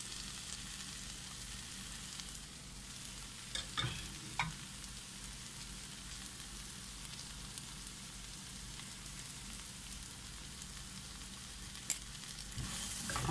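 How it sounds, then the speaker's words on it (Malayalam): Cooked sausage sizzles in a hot pan for a spicy dish, a soft continuous crackle broken by a few louder clatters of stirring, quiet and close with no talking. "ഇനി നമ്മൾ വേവിച്ച് വെച്ച സോസേജ് നമുക്കിതിലേക്ക് ഇട്ട് കൊടുക്കാം."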